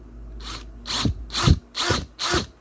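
A power drill whirs in five short, loud pulses, biting into the steel of a rusted GoPro mount with rising and falling grinding at a steady rhythm.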